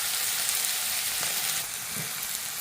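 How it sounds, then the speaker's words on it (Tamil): Chopped onions sautéing in oil in a pan for a non-veg curry: steady, close, hissing sizzle with faint stirring scrapes, no talk. "இதை நல்லா வதக்கிக்கலாம்"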